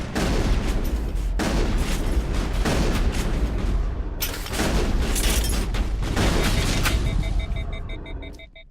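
Gunfire and booming blasts in a Mass Effect firefight, loud dense volleys and bursts filling the scene, with brief gaps between heavy salvos and a fading tail at the end.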